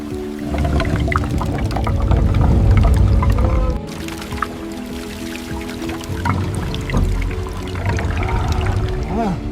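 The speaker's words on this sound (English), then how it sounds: "Water on the wood." Water is poured onto wood during ancient Great Wall construction work, a loud close splashing and gurgling pour that eases off midway, then continues with drips and squishy wet sounds.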